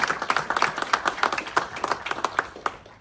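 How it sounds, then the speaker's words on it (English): Audience applause at a community gathering, a few seconds of lively, uneven clapping from a modest crowd, heard close and clear with no talking over it. "Let's all give them a round of applause."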